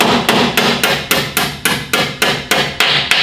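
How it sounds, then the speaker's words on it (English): Locking pins are hammered into a rotation unit on a column, a dozen loud, sharp metallic strikes in a steady, quick rhythm, close up and alone. "we're gonna go ahead and hammer the locking pins into place"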